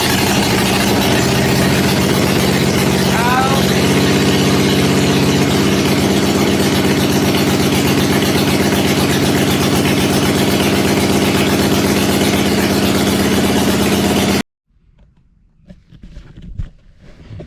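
A freshly built chopper motorcycle fires up for the first time with the choke on and exhaust gaskets unfinished, settling into a loud, steady, throbbing idle close by before cutting off abruptly, followed by faint handling noises.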